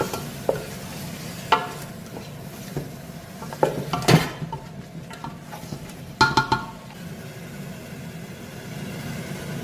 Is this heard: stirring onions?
yes